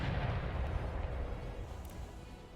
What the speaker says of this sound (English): I'm seeing the mortars firing here.